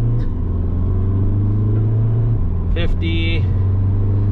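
A 2013 Volkswagen Jetta Sportwagen TDI diesel pulls under about half throttle, a low steady engine drone heard from inside the cabin, with someone speaking briefly over it.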